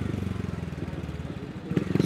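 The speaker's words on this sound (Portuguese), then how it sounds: "Os motoqueiros da entrega aí vêm acelerando no corredor." Delivery motorcycles rev and accelerate while lane-splitting through busy night traffic in Balneário Camboriú, a throbbing engine drone that swells louder toward the end, with a voice speaking over it.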